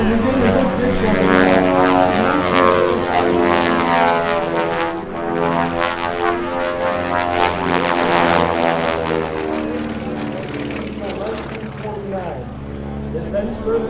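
A Twin Beech propeller airplane drones loudly nearby during an aerobatic display, its engine tone rising and falling slightly as it passes, with no voices.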